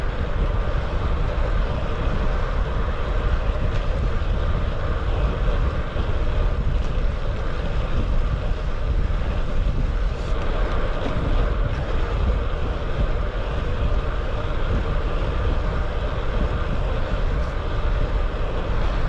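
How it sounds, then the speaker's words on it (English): Constant, heavy wind roar buffets the microphone while cycling into a headwind on a Triban RC500 road bike, a loud unbroken rush lasting the whole stretch. "definitely back into the wind now"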